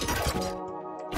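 Kay/O's flashbang in Valorant on the Ascent map bursts with a loud, glassy shattering crash, followed by a sustained ringing tone before another burst at the end.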